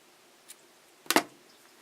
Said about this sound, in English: I'm going to chain up one, and I'm going to snip it off